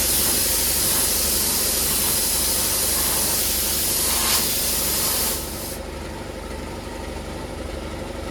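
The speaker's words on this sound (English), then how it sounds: "There's a crack in this factory hose, so most of the air was going out here, so I couldn't inflate the handlebar" Air hisses out of a cracked factory hose on a Stihl MS460 chainsaw during inflation, a loud, steady, broad spray of noise that suddenly drops to a quieter hiss near the end.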